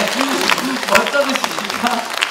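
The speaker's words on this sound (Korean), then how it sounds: "박수 한번 주세요" Audience applause at a Korean traditional jaedam sori storytelling-song recital, a lively scatter of claps mixed with voices and cheers from the crowd.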